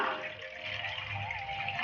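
Water is poured into a pan of milk while making palada payasam, giving a steady, fairly close pouring and gushing sound that lasts throughout without speech.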